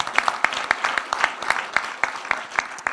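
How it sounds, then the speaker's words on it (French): Scattered audience clapping at a regional cooperative congress round table, a thin crowd with distinct individual claps standing out over a soft continuous patter, steady and fairly close throughout. "vous pouvez les applaudir pour ceux qui le souhaitent."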